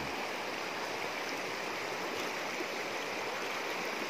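A wide, deep mountain creek flows on the path to a hillside farm, its constant rushing water close and full throughout, with no voices.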